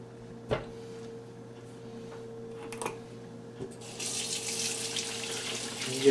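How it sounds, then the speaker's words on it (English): Hands washed under a running kitchen faucet: a steady hum with a few knocks at first, then the water rushes louder and fuller near the end. "Give the old hands a wash."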